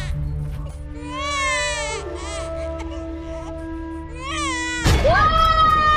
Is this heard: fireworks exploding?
no